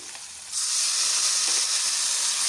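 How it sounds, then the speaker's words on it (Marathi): A sudden loud hiss bursts in as hot tempering is poured onto spinach khichdi, then a strong steady sizzle continues without pause. "आता आपल्याला तडका टाकायचा आहे"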